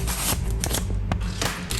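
A knife slicing through packaging while a new Japanese flip phone is unboxed, close scraping and tearing strokes in quick bursts with a sharp snap near the middle, no voices.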